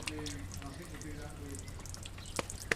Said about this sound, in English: you can hear the water coming out now. So this is now emptying all the grubby water that's been in the water tank.